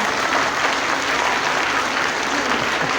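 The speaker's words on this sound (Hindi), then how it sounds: "भरपूर अंदाज में एक दफ़ा फिर तालियां।" A large crowd at an Independence Day celebration at a provincial office in Karachi breaks into loud, dense applause, a thick uninterrupted roar of clapping that holds a steady level from start to finish.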